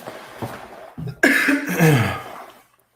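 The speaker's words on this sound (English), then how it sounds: "We're going to get rid of this cough." A person coughs indoors: a short rough burst followed by a louder, harsher hack, close to the microphone, then quiet.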